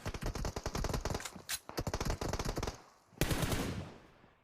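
Bursts of rapid automatic gunfire in PUBG Mobile during a competitive Erangel scrim, loud close volleys with brief pauses between them, then a final sustained burst.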